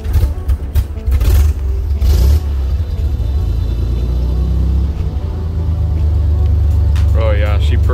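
Old Jeep engine running at its first start in 30 years, leaking from a heater core hose, a loud steady low rumble throughout with a brief rev near the start, while people talk over it.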